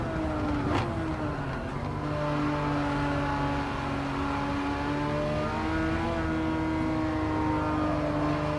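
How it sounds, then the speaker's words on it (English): A race car in Gran Turismo 7 power slides through a corner with a loud, continuous engine drone. The pitch sweeps and holds as the car slides under power, and tyre noise is mixed in. "inside of these two as we come into the braking zone. No grip there whatsoever. That power slide round that corner."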